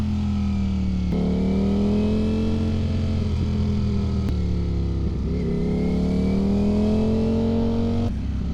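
A motorcycle engine heard through earplugs at a moto training session, a steady, muffled drone that rises and falls slightly in pitch like a soft scooter, continuous and close with no talking.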